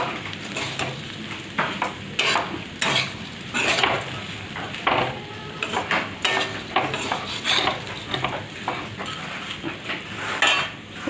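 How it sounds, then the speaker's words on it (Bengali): Thin flattened rice (chira) is stirred in a pan, giving repeated scraping and rustling strokes of a utensil against metal with a light sizzle, close and steady, with no talk. "চিড়েটাকে এবার নাড়াচাড়া করবো"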